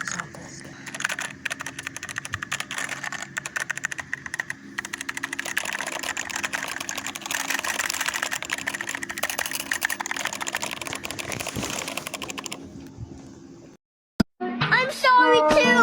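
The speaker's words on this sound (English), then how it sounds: "It's got red switches, really good. Here's the sound test." Continuous fast typing on a mechanical keyboard with red switches, dense rapid key clatter with steady electrical hum underneath for most of the stretch, then a brief pause, a sharp click and an excited voice at the end.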